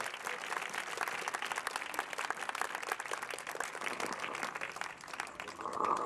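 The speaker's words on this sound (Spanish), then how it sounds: "Denle un fuerte aplauso porque se lo merece" A church congregation breaks into strong applause during a sermon, dense, sustained clapping from many hands at fairly close range, loud and even throughout with a slight swell at the end and no speech over it.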